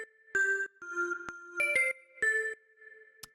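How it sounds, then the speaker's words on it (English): A little bell sample plays a bright, plinking melody of short struck tones, with clean separate notes and ringing tails, alone without talk. "and then this little bell sample"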